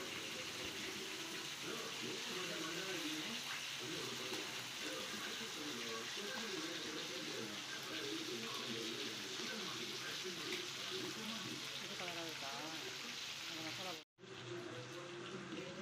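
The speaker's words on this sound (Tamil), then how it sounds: "அது வரைக்கும் இதை நம்ம நல்லா எண்ணெயில் ஃப்ரை பண்ணிக்கலாம்." Quail pieces fry in hot oil until reddish brown, a continuous hissing sizzle under a person talking over it, cut off abruptly near the end.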